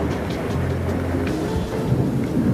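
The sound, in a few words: thunderstorm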